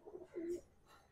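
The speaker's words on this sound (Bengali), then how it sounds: "ফেস আপ বিউটিটা এই যে সব ছটপটে পায়রা" Andhra pigeons cooing up close, a couple of soft, low, throaty coos with a short pause between them and no voices.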